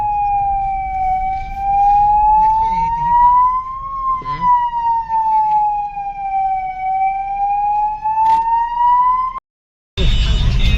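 A police siren wails loudly and close by, its tone rising and falling slowly and continuously before cutting off abruptly near the end.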